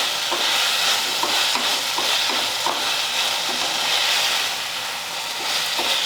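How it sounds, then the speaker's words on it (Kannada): Two capsicums, sliced lengthwise, fry in hot oil in a pan, producing a loud, continuous sizzle with light, regular stirring knocks throughout. "ಇವನು ಒಂದು ಸ್ವಲ್ಪ ಫ್ರೈ ಮಾಡ್ಕೋಬೇಕಾಗ್ತದೆ."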